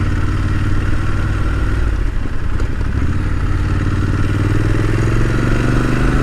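A Triumph Scrambler motorcycle climbs a big step up onto a highway, its engine a loud, close, steady throb with clattering mechanical texture and rising revs toward the end.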